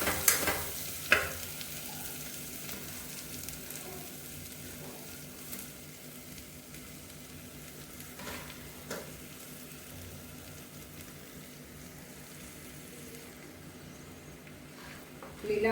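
Boiled potatoes are stirred into hot oil in a pan for a samosa filling, giving a soft continuous sizzle with a few louder scraping knocks near the start and end, and no talking.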